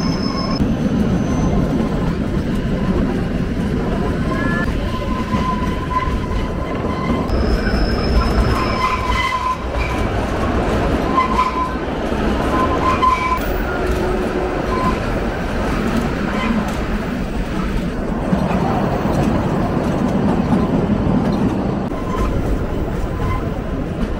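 Shimla toy train rolling along the narrow-gauge Kalka–Shimla railway in Himachal, a steady loud rumble with wheel squeals and rhythmic clatter throughout, some indistinct voices in the carriage beneath.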